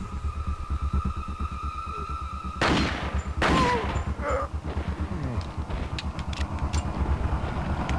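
Pistol shots in the video game Resident Evil 4, a few sharp bangs in the middle of the clip over a steady humming game soundtrack, with scattered smaller game effects following.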